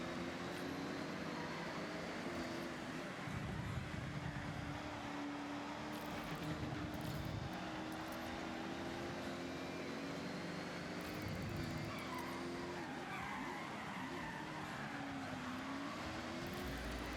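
Cars race on a circuit in Forza Horizon, engines droning continuously with shifting pitch as they accelerate and corner, a steady wash of motor noise with no talk over it.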